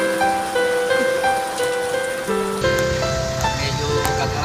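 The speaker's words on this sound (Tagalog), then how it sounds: "bagamat umuulan" Steady rain patters on surfaces outdoors, a continuous hiss mixed with sustained tonal hums and music-like notes that shift partway through.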